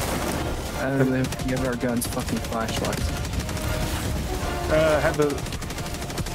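Rapid turret gunfire from the video game Helldivers 2 rattles in dense bursts under a player's talk and music, loud and steady throughout.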